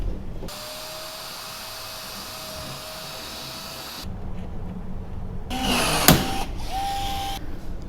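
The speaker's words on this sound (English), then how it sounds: "I'm just going to drill this if I can. The drill barely fits" A power drill boring holes through a jon boat rod locker hatch to mount a piano hinge, several steady whirring bursts with brief pauses and some handling clatter.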